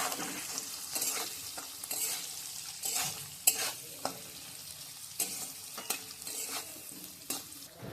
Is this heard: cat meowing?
no